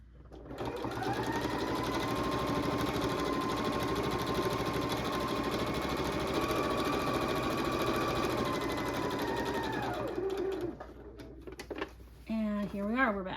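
A sewing machine runs steadily for about ten seconds, stitching a Halloween wreath pillow top with a loud even whir, then stops and a voice speaks briefly.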